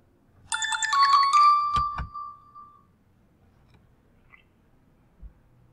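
A phone ringtone plays one melodic electronic ringing phrase for about two seconds, clear and fairly close, then cuts off into near silence with a faint click later.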